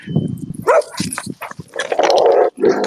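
A dog barks and yelps in short, close, loud bursts in an irregular rhythm, with whimpering between, heard alone without talk in a war-zone setting in Ukraine.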